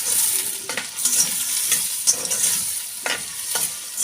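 Carrots, red and green peppers sizzle and hiss in hot oil in a pan, with steady frying noise and occasional stirring scrapes throughout, no voices.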